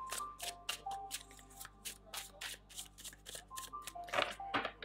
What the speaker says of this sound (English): So let's use that one to lay the cards out.